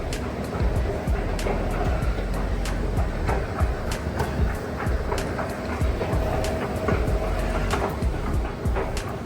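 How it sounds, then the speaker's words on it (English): Loud rumbling of a train leaving a station in Philadelphia, with rattling wheels and repeated metallic clacks, continuous throughout with no talking. "Train's leaving, train's gonna leave it up to you, man."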